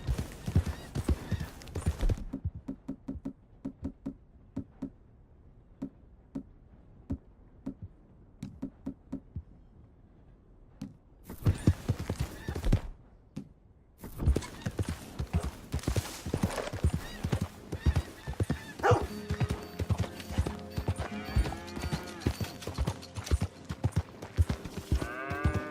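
Horse hooves clip-clop at a steady rhythm in Red Dead Redemption 2, stopping and starting again, with a neigh, loud and close under a busy game score of music and ambience; no talking.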